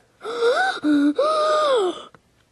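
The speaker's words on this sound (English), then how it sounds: "The engines gasped." Engines in a Thomas the Tank Engine story letting out a voiced gasp, two drawn-out rising breathy exclamations with a short break between them, loud and close, ending abruptly.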